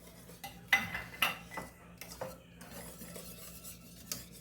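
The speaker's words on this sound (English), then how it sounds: "I'm just going to continue to stir while I wait on my pepper" A utensil stirs pasta sauce in a metal pot in a home kitchen, giving intermittent scraping and clinking knocks, fairly close, with no one talking.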